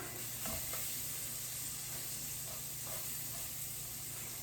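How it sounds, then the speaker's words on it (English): Spiced chicken stew sizzles steadily in a pot, a constant hissing fry with a few soft stirring knocks and scrapes mixed in. "All right, so give this a stir."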